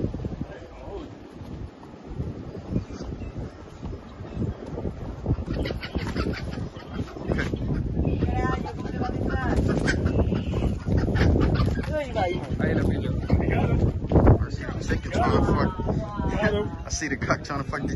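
A rooster and chickens cluck and squawk on a street in San Juan, Puerto Rico, near La Perla, with bursts of bird calls over a busy outdoor background while people talk nearby.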